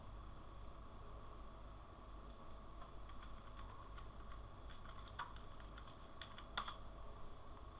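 Someone types a Gmail web address on a computer keyboard, with soft, scattered key clicks that grow denser toward the end over a steady background hiss. The typing is quiet and no one speaks.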